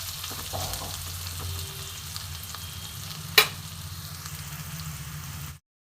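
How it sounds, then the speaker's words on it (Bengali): Onions fry in a pan and are stirred now and then, a steady close sizzle with a low hum beneath and one sharp clink near the middle, then sudden silence. "আর একটু ভালো করে ভাজবো পেঁয়াজটা।"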